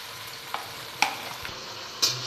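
Onions and spices fry in a pan for a chicken dish, with a low sizzle under a few sharp clinks and scrapes of a stirring spoon.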